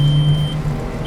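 A Volkswagen Jetta engine pulls at full throttle with a steady low drone and a faint high whine, heard from inside the car for a brief moment.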